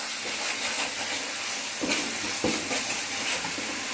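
Tomato paste and egg masala sizzling in a pan, a steady hiss of frying throughout with a few soft stirring knocks, moderately close.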